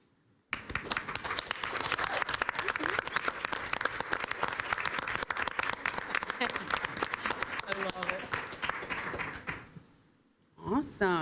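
Sustained applause at a school board meeting as staff grant recipients stand, dense clapping filling the room for about nine seconds, then dropping away before a voice begins talking.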